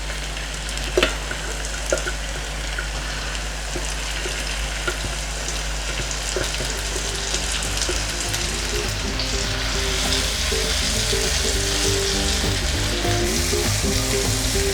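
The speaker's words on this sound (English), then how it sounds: "So I'm going to fry the pepper until it's dry." Pepper mix frying in oil for Nigerian native jollof rice gives a steady, close, continuous sizzle with a couple of brief clicks near the start and no talking.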